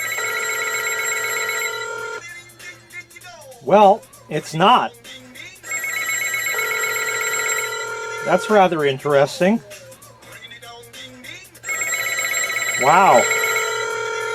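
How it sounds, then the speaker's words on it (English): Telephone bell of a landline phone ringing in repeated long electronic trills separated by pauses, with someone speaking briefly between the rings, testing a Radio Shack line-in-use indicator. "And it also will do something when you call the line, when the phone rings."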